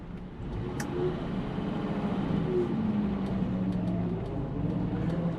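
A 1966 Mercedes-Benz 250SE Coupe with a four-speed manual gearbox drives along, its engine holding a steady, moderately loud hum with gradual pitch shifts as it runs, and no talking over it.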